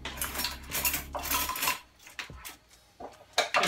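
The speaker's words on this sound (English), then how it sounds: "I'm gonna put these dishes up" Dishes being put away in a home kitchen, with repeated clinks and clatters of cutlery, plates and pans in irregular bursts, fairly close and moderately loud.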